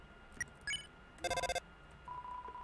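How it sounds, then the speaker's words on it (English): A telephone rings in the video game Deltarune Chapter 2: a short, bright, rapidly trilling ring burst, preceded by a few soft electronic blips and followed by a faint steady tone, with no talking. "The phone is ringing, but you can't get it."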